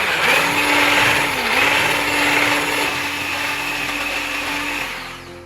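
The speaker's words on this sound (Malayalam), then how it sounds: "ഇനി ജസ്റ്റ് ഒന്ന് മിക്സ് ചെയ്യാം." An electric hand mixer whirs steadily through cake batter with crushed cashew pieces for a simple tea cake, a continuous loud motor drone with a slight dip in pitch partway, fading toward the end.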